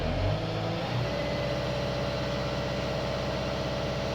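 Car engine revving up as the idle is raised, a short throaty rise at the start settling into a steady, even idle hum close by.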